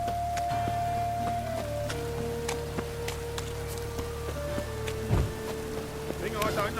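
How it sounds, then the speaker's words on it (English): Steady rain patters across a surface in the video game Witcher 3 Wild Hunt, a faint continuous hiss under sustained tonal music, with a brief low thump near the end. "Looks like rain."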